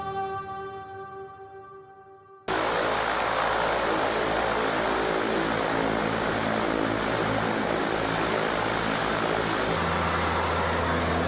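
A propeller airplane in flight over the Maldives islands: a short tonal passage gives way to a loud, steady, broadband engine and airscrew drone that holds unbroken to the end, with no voices.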